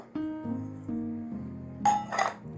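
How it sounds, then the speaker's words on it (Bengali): A metal lid lifted off a cooking pot of resting kachori dough gives a few ringing clinks that hum and fade, then a brighter scraping clatter near the end. "এবার আমি ঢাকনাটা খুলে নেব।"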